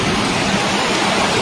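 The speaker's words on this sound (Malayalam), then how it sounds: "ഹെവി മഴയാണ്, ഹെവി മഴ." Heavy rain pours down at a home, a dense, constant roar of falling water with no breaks, loud and close, and no talking.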